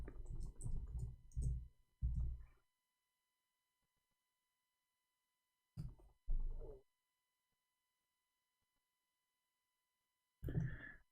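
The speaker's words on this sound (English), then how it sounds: "No, we are typing in English," Someone types on a computer keyboard in short, dense bursts of keystrokes, with long silent gaps between them.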